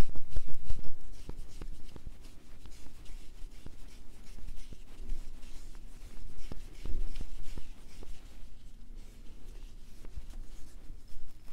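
T-shirt yarn is wound into a ball by hand, giving soft close scratching and rubbing strokes with small taps, repeated in an uneven rhythm with no talking.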